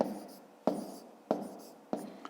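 Handwriting on paper while working out a long multiplication problem, close and quiet, with four short scratchy strokes at a steady rhythm.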